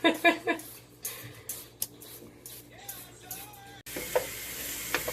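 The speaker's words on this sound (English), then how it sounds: "Oh, I can hear them sizzling." Food sizzling and crackling in a pan, with intermittent scraping and stirring sounds, close up and moderately loud.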